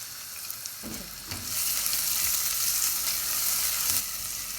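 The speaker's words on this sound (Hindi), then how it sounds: "हल्का सा फ्राई करेंगे।" Chopped garlic and onion frying in a tablespoon of oil in a pan, with a couple of stirring knocks before a bright, steady sizzle swells and holds close by, alone without speech.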